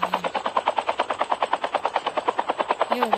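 A helicopter flies in a video game, its rotor thumping in fast, even chops that continue loud and close for the whole stretch.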